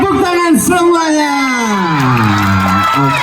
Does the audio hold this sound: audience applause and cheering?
yes